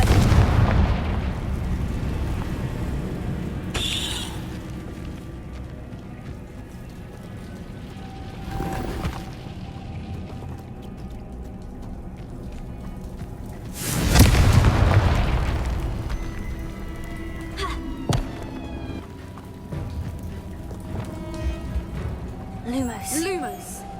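Confringo spell blasts in the Hogwarts Legacy video game: two heavy booming explosions a few seconds apart, loud and close, over a continuous rumbling game soundscape with scattered smaller pops near the end.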